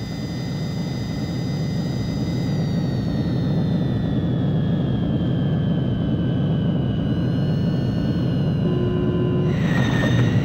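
Jet aircraft landing in the Japanese version of the video game Ace Combat 3: a steady, loud engine roar with a slowly falling whine throughout, ending with a brief game tone near the close, no speech.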